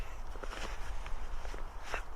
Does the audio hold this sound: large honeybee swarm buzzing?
no